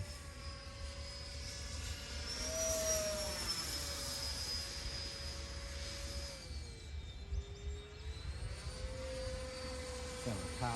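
A Freewing A-4E/F Skyhawk 80mm EDF RC jet with a burner effect flies overhead, its steady high-pitched ducted-fan whine rising and falling in pitch as it pulls through a tight loop, loud and continuous throughout.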